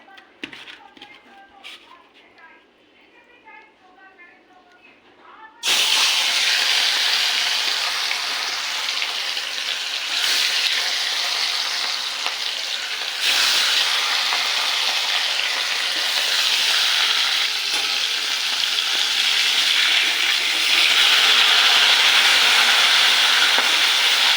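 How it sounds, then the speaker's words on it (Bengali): Rohu fish pieces rubbed with salt and turmeric drop into hot oil in a wok, bursting into a loud, steady sizzle after a quiet start, crackling and spattering continuously for nearly twenty seconds. "কড়াইতে তেল বসিয়ে দিয়েছি মাছটাকে ভেজে নেবো"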